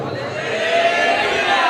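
A church congregation shouts hallelujah together loudly, a sustained, close crowd roar of many voices filling the room.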